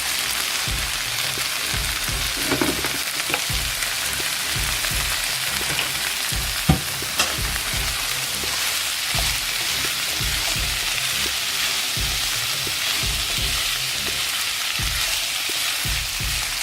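Mixed vegetables frying over high flame in a pan, a steady loud sizzle with scattered crackles and occasional scraping knocks from stirring, no talking.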